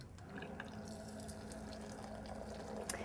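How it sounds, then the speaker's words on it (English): Hot boiling water is poured into a pot of rooibos herbal tea with flowers and lavender, a steady soft splashing stream running throughout, fairly quiet and alone. "And then you're going to add your hot water."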